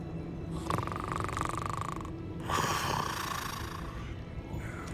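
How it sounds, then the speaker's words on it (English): A sleeping character in the video game Hogwarts Legacy snores loudly, two long rasping rumbles with a brief pause between them, close and drawn out. "That sounds like my Pibbles when he snores."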